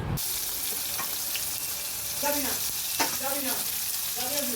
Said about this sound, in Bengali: আমি এখানে আলুটা ভেজে নিচ্ছি মাংসের, আর এদিকে কিশমিশটাও ভেজে নিচ্ছি